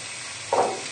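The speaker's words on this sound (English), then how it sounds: "And we'll just give this a little stir in just to mix it together with the shallots" A brief scrape and sizzle as Dijon mustard is stirred into shallots in a hot pan, a single short stir rising over a quiet steady background.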